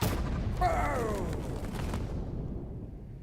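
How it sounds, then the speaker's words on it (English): A gunpowder shipment aboard a ship blows up in Assassin's Creed Shadows, a loud, close burst that rolls into a fading rumble and crackle over about three seconds, with a brief tonal whoosh in the middle. "Man, I was hoping for a bigger explosion."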